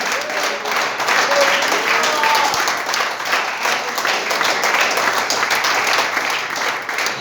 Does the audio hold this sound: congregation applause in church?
yes